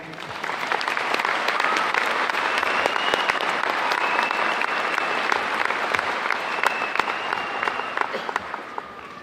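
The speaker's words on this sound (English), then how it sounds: "Please join me with applause to thank them for all they have done." Sustained applause from a large audience at a 2021 high school commencement ceremony, a steady dense clatter of many hands holding at an even level for the full stretch with no voices over it.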